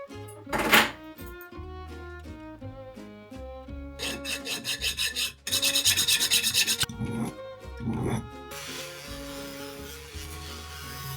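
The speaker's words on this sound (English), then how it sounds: "After I file a little bit of the excess and make it a little bit more close to the final shape" Metal is filed by hand to trim excess from handmade jewelry in a home workshop, with bursts of steady rasping strokes over background music.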